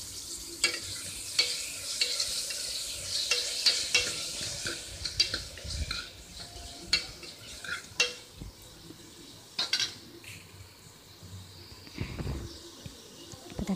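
Tomatoes sautéing with onions in a pan for a goat trotter curry, a continuous close sizzle broken by frequent spoon scrapes and clinks against the pan, no talk.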